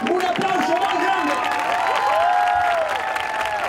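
A crowd at a cancer awareness event in Plaza Callao, Madrid, claps and applauds volunteers for a few seconds, with steady clapping alongside a voice on a loudspeaker.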